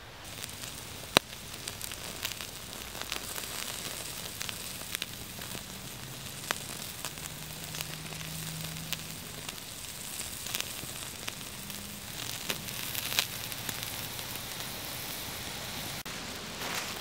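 Steak sizzling over an open campfire outdoors, a steady crackling hiss with scattered sharp pops and snaps from the fire, continuous and close, with no one talking.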